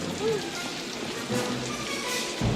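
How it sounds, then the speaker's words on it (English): Rain falls outdoors as a steady, soft hiss of drops, moderately loud and continuous, with a brief thud near the end. "it's raining out here. I'm getting wet."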